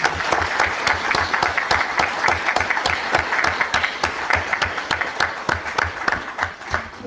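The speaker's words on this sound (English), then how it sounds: "I think we can applaud." Meeting audience applauding together, a steady run of close, crisp claps with a rhythmic pulse emerging as it goes, continuous for several seconds.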